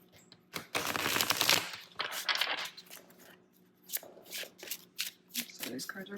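Tarot cards being shuffled, with a dense riffling burst followed by shorter intermittent card flicks and taps, close and clear, while a person talks quietly at times.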